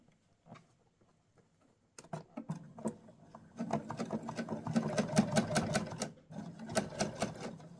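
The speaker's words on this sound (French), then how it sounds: "Je baisse mon pied et je couds le plus près possible" A sewing machine stitches a zipper onto a skirt, close up. A few soft taps and clicks come first, then the machine runs in a fast steady whirring rattle, pauses briefly and starts again.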